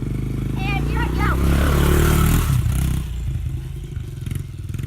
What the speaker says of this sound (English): So I'm gonna shift out to first. Go to second, and here I go.